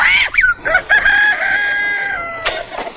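A rooster crows loudly and close, a long drawn-out call, with hens clucking in short bursts around it in a farmyard.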